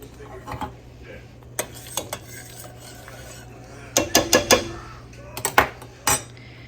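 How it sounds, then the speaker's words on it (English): A spoon stirring sugar into a pot, giving scattered close metallic clinks and scrapes against the sides, with a couple of quick rattling clusters over a low steady hum. "So definitely stir after you've added the first cup."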